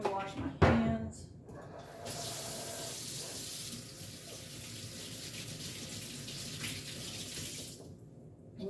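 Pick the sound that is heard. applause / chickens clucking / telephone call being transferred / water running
water running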